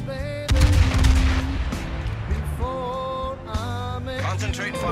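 Guns of the cruiser Dmitri Donskoi firing in a naval combat game, a loud opening blast and then repeated booming salvos over several seconds, with ringing tonal effects between shots.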